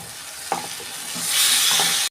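Potatoes and cauliflower frying in a pan while being stirred, a few scraping strokes over a steady sizzle that swells into a loud, hissing roar of frying before cutting off.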